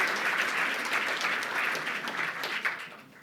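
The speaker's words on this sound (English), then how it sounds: "we also need to have a round of applause for military families" Audience applause fills a gala hall, steady dense clapping from a large crowd holding for about three seconds before tapering slightly at the end.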